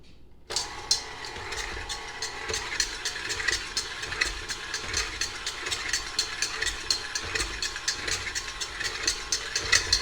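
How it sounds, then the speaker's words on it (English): A stand mixer beats hot choux pastry dough to cool it, a steady whirring motor with a fast, even rhythmic slap and rattle of the beater, close and constant without talk. "you're going to cool it down by putting it in a mixer for about a minute"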